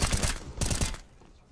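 Gunfire in Counter-Strike during a competitive ESL Challenger match, a rapid burst of several loud close shots over about a second, then a quiet tail.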